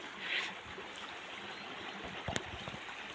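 A river flows right beside a farm field, producing a faint, steady rushing wash of water that continues without a break.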